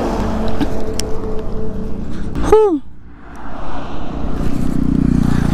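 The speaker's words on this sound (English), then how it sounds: "Gonna kill my engine first." Engine noise from a motorcycle ridden on a highway rumbles steadily, then drops away as the engine is switched off, with a brief high whine sweeping down mid-clip and wind noise filling the rest.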